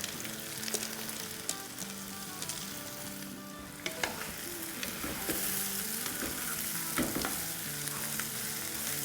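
Grated carrot, a little bell pepper, onion and a handful of cabbage sauté in a hot pan, giving a continuous close sizzle broken by occasional stirring scrapes.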